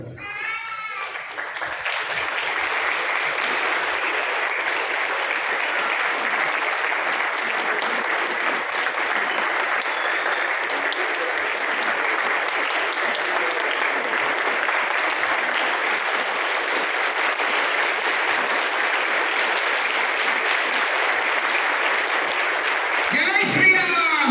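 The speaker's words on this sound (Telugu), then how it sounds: "అయిపోయింది, చప్పట్లు కొట్టండి" An audience at a spiritual discourse in Hyderabad breaks into sustained, even applause lasting over twenty seconds, a dense wash of clapping that stays steady from start to finish, with brief voices at either end.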